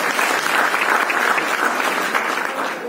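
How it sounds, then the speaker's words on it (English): Steady applause from a large gathered audience honoring cricketer Sachin Tendulkar, dense sustained clapping at even loudness throughout with no break. "it's a big applause for you"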